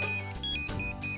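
A mobile phone ringtone plays in a Marathi TV serial scene: a bright electronic melody of repeating beeping tones in short bursts, clear and close, with no talking.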